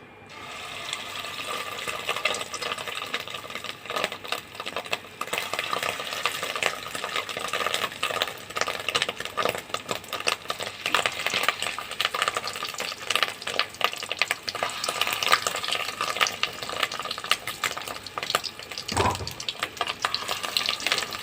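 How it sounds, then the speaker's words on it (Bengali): Fish roe fritters, mixed with chilli, turmeric and gram flour, fry in hot oil in a wok with a steady, close sizzle and crackle that continues throughout, broken by occasional stirring clinks. "এবার বড়াগুলো ভেজে নেব"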